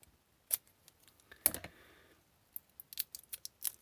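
Kapton tape being pulled and stuck down on an electronics workbench during solder testing: a few sharp crackling tears and pats with a short rustling strip, then a run of quick light taps and clicks, quiet and close.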